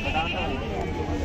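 A male goat bleats loudly and close by at a goat market in Tonk, India, a wavering cry over a murmur of people talking in the background.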